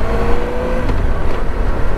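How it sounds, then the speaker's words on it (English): A 2011 Honda VFR 1200F motorcycle's V4 engine runs with a loud, steady, throaty drone and slight fluctuations in pitch, heard close and alone without any voices. "Bulletproof Honda V4 engine."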